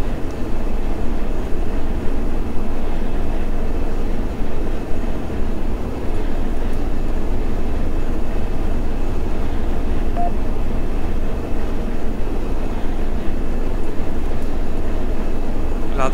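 A BR-143 electric locomotive running in Train Simulator 2014, a steady, dense rumble of rolling wheels and traction noise that stays constant throughout, with a faint high whine riding on top.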